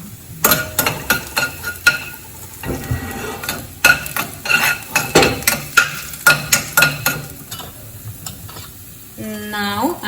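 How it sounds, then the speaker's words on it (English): Two garlic cloves hit hot oil and crackle, with a run of sharp rhythmic spatula taps and clatters against the pan in between, close and fairly loud, a brief tonal chime near the end. "Here goes 2 cloves of garlic, and lightly saute it for another 2 or 3 seconds."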